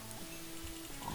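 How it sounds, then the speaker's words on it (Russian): A pig in the video game Minecraft gives a few soft, short oinks, faint and close, in an otherwise quiet game scene. "Свинка."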